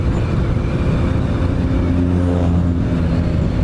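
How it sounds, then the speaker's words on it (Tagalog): Honda Giorno+ scooter accelerating from a standstill during a performance test, its engine droning loudly and steadily at close range with a rising whine as revs build, with no talk. "Acceleration test nga natin. From 0, lalaro-laruin ko lang yung throttle"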